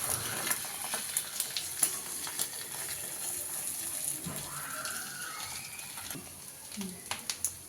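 An omelette made from a single egg fries in a pan. A soft, quiet sizzle carries light scraping clicks, and a faint voice is heard now and then.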